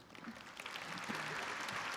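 A commencement audience clapping, a soft, distant patter of applause from a crowd that swells slightly and holds steady for a couple of seconds.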